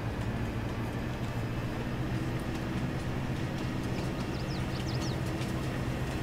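A rented train in a farming video game rumbles steadily with a low, constant engine drone, a continuous rolling rail sound, and faint high chirps in the background.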